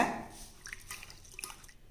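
Soaked moong dal being rinsed by hand in water, with light splashing and dripping sounds in a short close burst, loudest at the start and fading toward the end.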